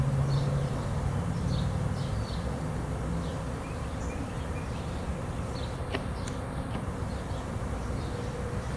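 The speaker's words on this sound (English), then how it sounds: "You can see some of those bees that are fanning." A honeybee swarm gathering at a trap, with bees fanning to spread scent; a steady, dense buzzing drone carries on throughout, fairly close and even, with no talking.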